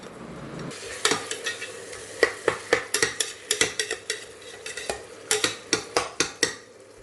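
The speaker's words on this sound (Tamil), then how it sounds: "இதை போட்டு வதக்கிடலாம்" Tomatoes sautéing in a pan for a country chicken pepper gravy, with rhythmic, close-up spatula scrapes and clacks repeating over a soft background sizzle.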